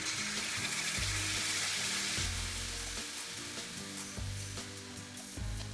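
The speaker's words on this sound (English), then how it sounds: "Then add the tomato puree." Tomato puree hitting a hot wok for a vegetable kofta gravy sizzles steadily and loud throughout, with broad hissing and occasional stirring scrapes, no voices.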